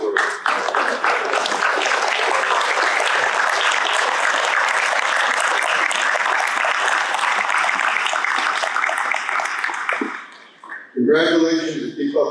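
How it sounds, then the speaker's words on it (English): A large audience at a scholar-athlete awards luncheon applauds steadily for about ten seconds, dense and even, then a voice speaks briefly as it ends. "give a round of applause to your coaches, parents, and all those who I've just mentioned"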